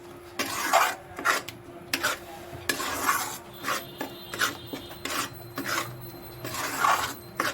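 Tomatoes frying on a high flame for chole, with a rhythmic scrape-and-stir of a spoon through the pan repeating roughly every half second over a soft sizzle, close up and without speech.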